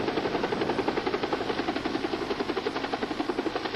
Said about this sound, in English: I need a helicopter dispatched to Lake Hemet.